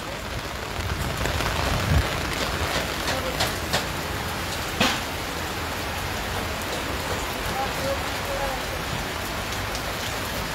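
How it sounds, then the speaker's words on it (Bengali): Heavy rain pours steadily at a fair ground in Durgapur, a dense, constant hiss with occasional sharper knocks and drips, and a voice speaks faintly underneath. "ঝমঝমিয়ে বৃষ্টি পড়ছে।"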